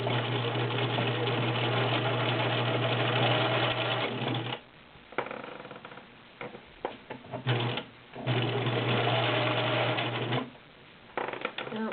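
A Viking Husqvarna Selectronic 6570 electric sewing machine stitching in long steady runs with a humming motor, stopping and restarting several times with short pauses in between.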